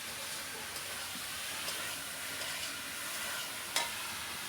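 Brinjal frying in a pan makes a faint, even sizzle, with soft stirring scrapes and one sharper knock near the end.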